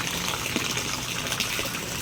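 Rainwater flows over a flooded rice field, a steady broad rushing wash of water that stays constant and loud with no talk.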